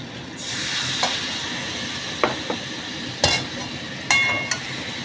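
Mixed vegetable korma being stirred in a pan over a steady sizzling hiss, with a few sharp scrapes and clinks of a spoon against the metal spaced irregularly through the sound.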